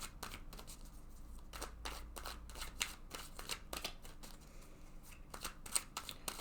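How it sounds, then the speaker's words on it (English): A deck of tarot cards is shuffled repeatedly, a run of crisp riffling and flicking bursts up close, with no talking. "right now I'm just going to shuffle this deck several times."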